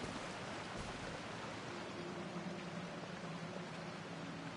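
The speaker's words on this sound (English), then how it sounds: "Oh, it's raining." Rain falling in the video game Genshin Impact, a dense steady hiss of downpour that stays even and unbroken throughout, with no voices over it.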